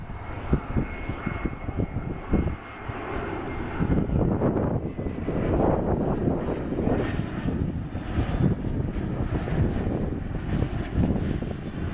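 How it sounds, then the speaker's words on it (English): A FlexJet Bombardier Challenger 350 business jet arriving from Montreal lands, a loud sustained engine roar building and holding with rushing turbulence, heard from nearby outdoors. "Now we have a FlexJet Bombardier Challenger 530? Or 350, sorry. Coming in from Montreal."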